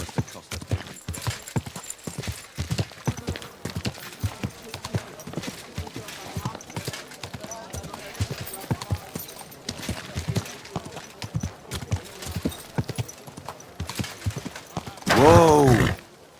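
Steady walking hoofbeats of a horse in the medieval game Kingdom Come: Deliverance II, close and rhythmic, with someone talking over the clopping and a short loud burst near the end.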